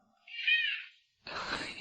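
A black cat answers its owner with one clear, medium-length meow, followed after a short pause by a burst of rustling noise.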